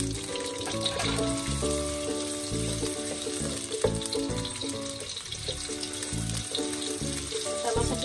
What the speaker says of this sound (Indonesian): Minyaknya udah panas, sekarang kita masukin bawang bombaynya